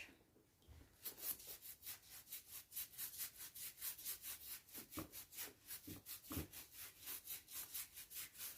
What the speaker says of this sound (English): you scrub with the brush,